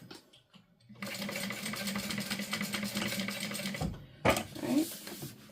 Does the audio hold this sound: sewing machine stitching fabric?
yes